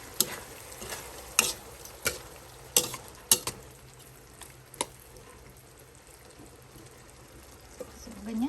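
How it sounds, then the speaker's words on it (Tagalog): Chicken tuna pasta being stirred in a pan, giving a few sharp utensil scrapes and clinks against the pan in the first seconds over a faint sizzle, then quieter stirring. "And mix all together."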